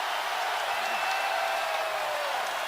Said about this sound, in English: And the crowd's starting to celebrate.